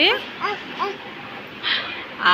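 A child imitates a dog barking with three short, high yelping woofs in quick succession, close to the recorder, followed by a couple of breathy sounds.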